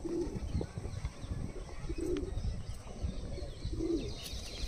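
A Madrasi pigeon gives soft, low coos in short repeated phrases at roughly even intervals, close by, over a steady background murmur.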